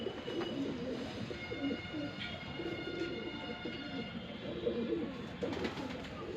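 Shahjahanpuri breed pigeons coo in repeated soft, throaty bursts close by in a loft, their rolling calls overlapping with faint chirps and occasional background voices.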